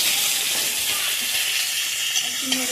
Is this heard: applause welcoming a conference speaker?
no